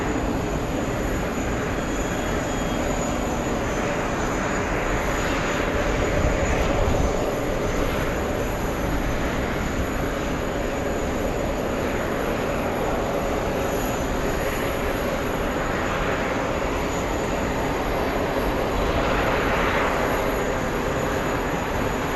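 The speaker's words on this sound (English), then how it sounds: "Pushing back, Aero Mexico in the Dreamliner." An Aeromexico Boeing Dreamliner pushes back at JFK Airport, its engines giving a constant, far-off rumble and hiss that swells slightly now and then.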